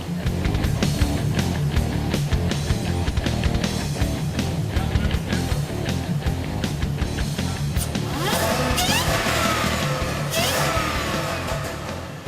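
A 2.8 litre supercharged car engine runs on a dyno, a steady loud drone with rising revs and a harsher, brighter burst of throttle near the end, continuous throughout.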